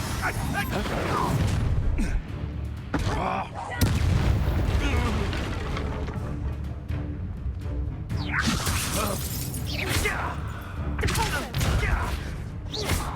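A fire spell cast in the Hogwarts Legacy video game produces blasting, crackling bursts layered with game combat effects and a voice calling out spells, loud and dense throughout.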